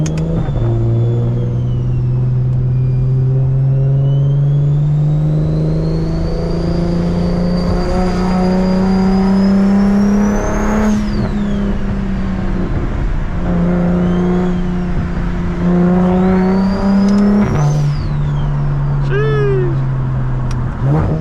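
Turbocharged BMW 335is engine revving and pulling hard on a night drive, a loud continuous drone that rises in pitch through the gears with a high turbo whine, the climb breaking twice at shifts.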